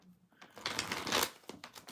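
Tarot cards shuffled by hand in a short close burst of rapid riffling and flapping, a few quick slaps following, with no talk.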